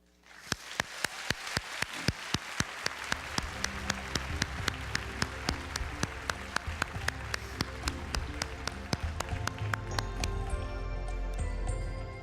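An audience claps steadily to welcome theoretical physicist Raphael Busso onto a panel about the universe as a hologram. The applause fills the whole stretch, with sharp individual claps standing out, and it thickens toward the end.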